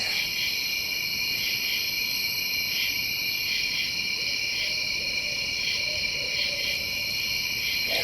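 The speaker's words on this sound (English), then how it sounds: "a few owls. There's about 3 of them out there right now" Several owls call at night in Hoosier National Forest, their faint, distant hoots barely rising above a dense, continuous chorus of crickets and insects.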